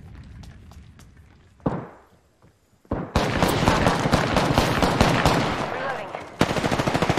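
Automatic gunfire in the battle royale Apex Legends, a few scattered shots and a thud before a loud, rapid sustained burst of fire that runs to the end, close and dense.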